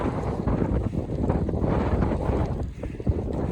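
Gusty wind buffets a microphone beside a pond during a bass fishing trip, a loud continuous rumbling roar that swells and eases without pause.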